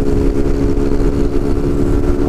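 Honda CG Titan motorcycle, a tuned street bike, runs its engine hard while racing another motorcycle, a steady loud drone close by with no talk.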